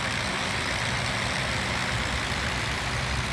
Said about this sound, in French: Ok, moteur droit redémarre, c'est cool.